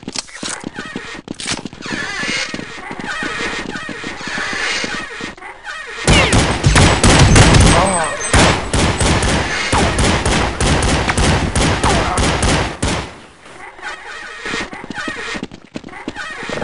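Rapid gunfire rattles through a Counter-Strike 1.6 match, loud, dense bursts of shots in close succession, thickest in the middle stretch, with in-game voice callouts in between.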